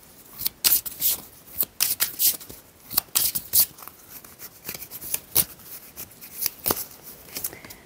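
Tarot cards being shuffled and drawn by hand, a close series of crisp riffling bursts and sharp snaps at an uneven pace, with no talking.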